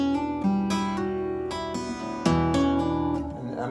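A short fingerstyle guitar phrase played with two-handed tapping, plucked notes over a sustained bass, with a bright, bell-like attack on each note, played solo and close.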